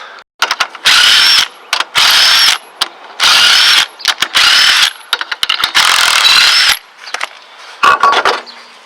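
An impact wrench spins lug nuts off the wheel of a Plymouth/Dodge Neon, loud close bursts of buzzing whir, about six in a row, separated by short pauses and clinks.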